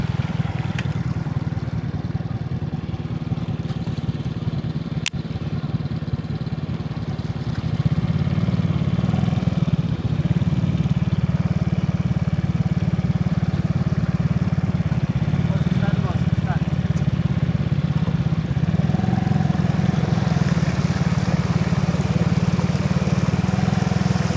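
A motorcycle engine drones steadily while riding through flood water in Calasiao, Pangasinan, growing louder partway through, with a rider talking over it.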